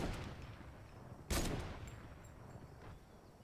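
Gunfire in a Fortnite match as bots shoot at each other nearby: one sharp loud shot rings out, followed by fainter scattered distant shots over a low ambient bed.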